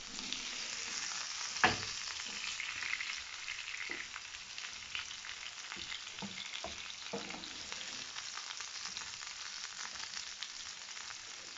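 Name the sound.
boiled potatoes sautéing in butter and garlic, stirred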